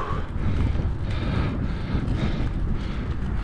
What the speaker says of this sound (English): we'll get blocked by some of this wind.